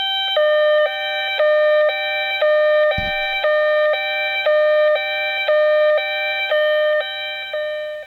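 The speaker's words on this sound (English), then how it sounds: "by pressing the fourth one, we actually get a fourth siren sound effect" A 2020 Hess toy ambulance plays an electronic siren, a bright buzzy two-tone pattern that alternates in even steps and repeats steadily throughout, broken once by a dull thump partway through.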